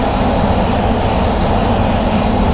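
A paint spray gun lays silver metallic paint onto the front end of a Honda Jazz, giving a loud, steady, unbroken hiss that runs the whole time with no talking.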